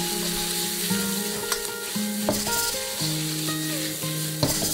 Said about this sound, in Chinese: 开大火翻炒，辣椒炒断身，再加入竹笋翻炒